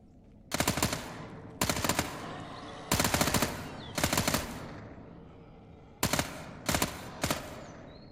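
Submachine gun fire in the video game Fear the Night: seven loud, rapid bursts of automatic shots, each under a second long, separated by short pauses.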